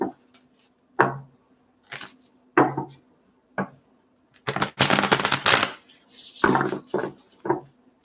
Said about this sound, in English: Okay, just one more shuffle here.